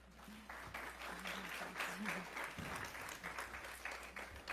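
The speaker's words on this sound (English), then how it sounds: "Let's have a round of applause for our panel." Audience applause for a panel at a privacy-law policy event, a steady dense wash of clapping that runs the whole length at moderate volume, with a voice briefly audible over it.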